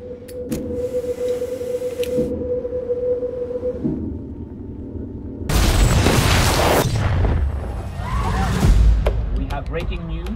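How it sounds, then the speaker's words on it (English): A large explosion in a city center from a film or TV scene, a sudden deep, loud boom that bursts in partway through and rumbles on, following a stretch of low tone and background sound. "a large explosion has gone off in the center of the city"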